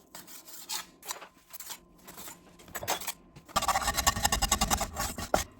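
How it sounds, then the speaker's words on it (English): Cooked meat is cut lengthwise into thin strips for homemade meat flour, with repeated close scraping, snipping cuts that grow denser and louder toward the end. "Now I'm gonna cut lengthwise, pretty thinly."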